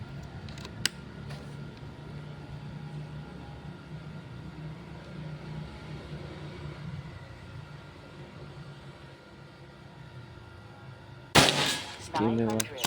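A Predator Pajero Gen 6 PCP air rifle fires one sharp, loud shot near the end of the stretch, during an outdoor accuracy test in Sumatra. Before it there is a low steady background hum with a faint tick early on.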